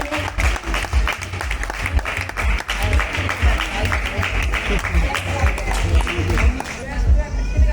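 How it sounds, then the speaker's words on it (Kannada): Loud applause from an audience at a Karnataka festival drawing competition, dense steady clapping across the whole stretch with crowd voices and a speaker talking over it. "ಜೋರಾದ ಚಪ್ಪಾಳೆ"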